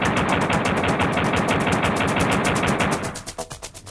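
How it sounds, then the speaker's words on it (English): Rapid bursts of pistol fire from Duke in a Nintendo 64 game, shots repeating in a fast, even stream before cutting off, close and loud with no talking. "Then return to the game and fire some bullets."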